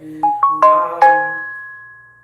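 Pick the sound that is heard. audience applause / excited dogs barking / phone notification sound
phone notification sound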